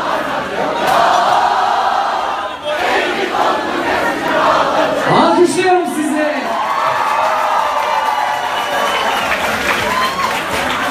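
A packed concert crowd at a show at Drom in New York roars, cheers and whoops continuously, with loud, dense shouting and clapping filling the room the whole time.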